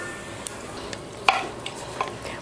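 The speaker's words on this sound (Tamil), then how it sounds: "எண்ணெய் காஞ்சிடுச்சு. அதில் 3 ஏலக்காய், 3 கிராம்பு, 1 அன்னாச்சி பூ, பட்டை 3 அதை சேர்த்துடலாம்." Whole cardamom, cloves, star anise and cinnamon stick crackling in hot oil for a vegetable biryani, a soft steady sizzle with a few sharp pops and spatters close by.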